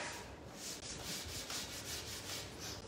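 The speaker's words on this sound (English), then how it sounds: "I'm giving it a really good sand all over with an 80 grit" Rhythmic back-and-forth rasping of an 80-grit sanding block on a wooden chair, steady strokes, close and fairly quiet, with no voices.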